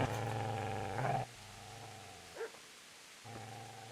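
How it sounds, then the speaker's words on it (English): A mutt growling low and snarling as it lunges, a rough sustained rumble broken by short pauses and a sharp yelp-like snap in the middle, close and fairly loud, with no talking. "Get away, you mutt!"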